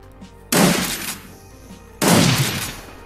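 Two sharp bursts of gunfire from a Shadowrun Dragonfall battle, each a loud sudden crack with a rattling tail, about a second and a half apart, over faint game background.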